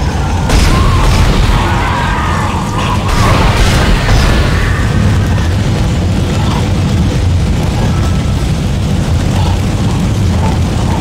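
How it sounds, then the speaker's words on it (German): A shuttle crashes in the hangar bay in Dead Space, a loud, sustained rumbling roar of impact and grinding debris over about ten seconds. "Kollision in der zentralen Hangarbucht registriert."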